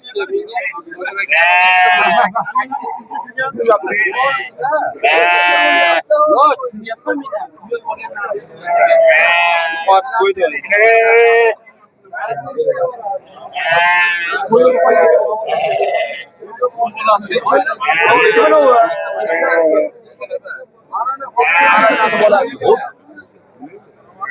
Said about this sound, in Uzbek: Mana katta qo'ylar tomonga o'tdik.